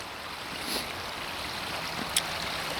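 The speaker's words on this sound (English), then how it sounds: "the water flowing in the pipe" Water flows steadily through a pipe in a homemade compressed-air setup, a soft continuous rushing and trickling that holds one level throughout, with a faint higher tick near the end.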